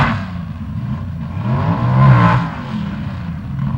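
Drag racing cars from the 1974 NHRA Springnationals, a Hornet and a Dodge Sport, rev at the start line, their engines rising to a loud roar midway and then easing off, heard from a distance.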